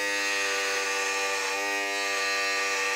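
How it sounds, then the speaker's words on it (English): A Norelco Multigroom 3100 electric trimmer runs continuously while trimming a beard, a steady close buzzing hum with a bright whine, loud and unbroken with no talking. "I'm going to go ahead and just do a little beard trim."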